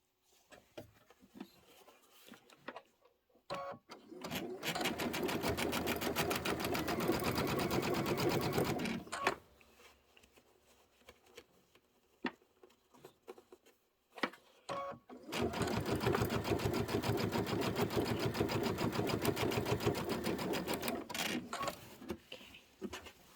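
A sewing machine stitches fabric strips together in two long, steady runs of rapid needle chatter, separated by quieter pauses with light handling noise.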